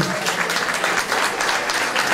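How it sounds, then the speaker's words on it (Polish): Loud, steady applause from a concert crowd at a rock'n'roll show in a club, many hands clapping in a dense, continuous wash, with a voice faintly mixed in. "Wielkie brawa, Włodek Janowski."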